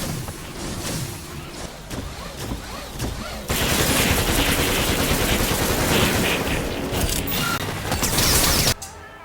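Rapid gunfire from a VR shooter game while climbing a tall building to take out enemies at the top, dense crackling bursts growing louder and more continuous midway, then cutting off abruptly.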